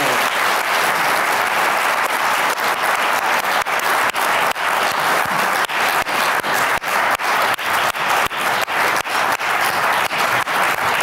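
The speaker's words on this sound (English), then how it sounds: "let's give a big round of applause to our panel" A large audience at a water symposium gives its panel a big round of applause, a dense, loud, sustained clatter of many hands going on unbroken for over ten seconds with no talk.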